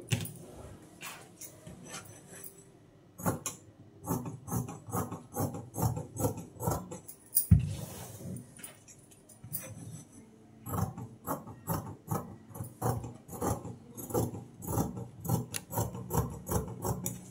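Scissors cut through blouse fabric for a cut work design, a close series of rhythmic rasping snips in quick bursts with a short pause midway, and no talking.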